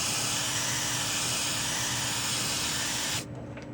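A Mr. Hobby Procon Boy PS-290 wide-spray airbrush sprays paint, a loud steady close-up hiss that holds evenly and then cuts off abruptly near the end, leaving a quieter low hum.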